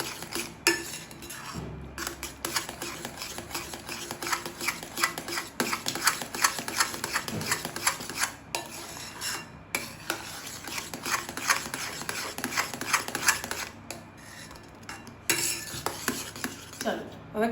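A spoon scrapes and clinks steadily against a metal pan while stirring mahaprasad, a milky sweet offering, in a continuous close-up rhythm with a few louder knocks.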